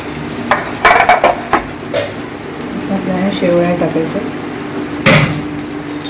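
Urad dal and ginger sizzle in hot oil for a South Indian rice sevai upma, with sharp spoon scrapes and clinks against the pan over a steady frying hiss while someone talks.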